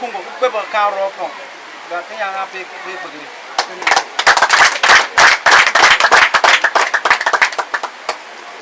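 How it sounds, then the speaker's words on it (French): An audience claps at a school key handover ceremony: a burst of dense, loud applause swells up after a voice speaks, then gradually thins out into scattered claps. "On applaudit."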